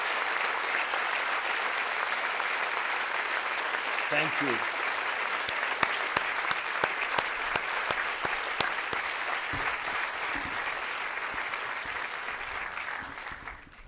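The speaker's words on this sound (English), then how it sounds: "Let's give them one more round of applause." Sustained, dense applause from a large university audience, loud and even throughout, with scattered sharper claps standing out and a brief spoken thanks partway through.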